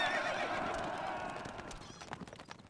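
A horse neighs in the Stronghold Crusader strategy game, a fairly loud bright whinny that fades over a few seconds amid game ambience.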